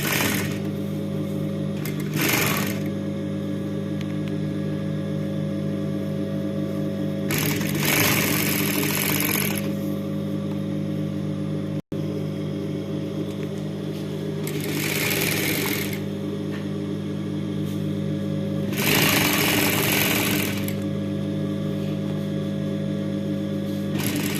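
A sewing machine stitches along a folded fabric edge for slit stitching in repeated bursts, a steady mechanical whir running for a few seconds at a time between quieter pauses, with no talking.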